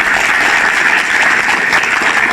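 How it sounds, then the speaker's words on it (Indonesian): A studio audience applauds on an Indonesian TV talk show hosted by Tukul Arwana on Indosiar, with loud, dense, sustained clapping throughout. "Tepuk tangan sekali lagi."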